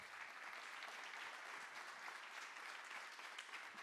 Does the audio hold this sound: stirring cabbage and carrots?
no